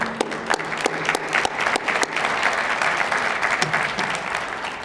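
Audience applause fills a hall during the 2022 USTA Midwest Hall of Fame ceremony, a steady, dense clapping from a sizable crowd with scattered sharper claps, sustained for the whole stretch.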